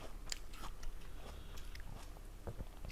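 Crisp, close bites and chewing of a crunchy Envy apple, with sharp crunches scattered over steady quieter mastication, fairly faint, with no talk.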